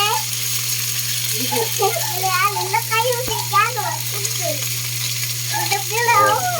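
Ground pork frying in hot oil with pechay sizzles steadily in a pan throughout, while voices, including a child's, talk over it.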